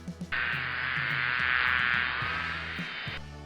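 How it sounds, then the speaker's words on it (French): A bee's steady, droning buzz holds for about three seconds, loud and close, with a low background hum and soft music beneath. "C'était le bourdonnement ou le vrombissement de l'abeille."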